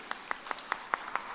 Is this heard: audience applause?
yes